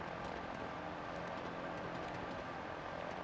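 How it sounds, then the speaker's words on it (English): A steady, dense engine drone from a plane flying in The Legend of Zelda: Tears of the Kingdom, an even whirring hum that holds constant throughout with no voices. "I have a feeling this plane's not going to make it there"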